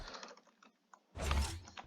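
Computer keyboard keys pressed during a game of Unreal Tournament: a few soft, close taps, then a denser burst of clicking and thudding near the end, with no talk.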